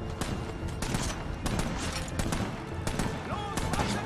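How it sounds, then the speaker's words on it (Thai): Rapid bursts of automatic gunfire from the Brothers in Arms 3 video game crackle in repeated volleys, loud and close, with a voice speaking over parts of the shooting. "ยิงรัวเลยผม"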